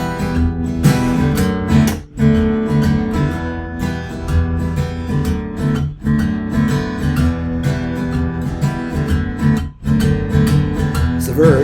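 Acoustic guitar strummed in a steady chord rhythm, the verse of a song played in a lesson setting, loud and close with brief pauses near two, six and ten seconds.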